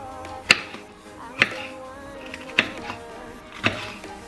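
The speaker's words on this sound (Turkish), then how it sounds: "biberleri doğruyorum" Peppers being chopped with a knife on a cutting board, four sharp, distinct chops spaced about a second apart, close and clear over faint kitchen background.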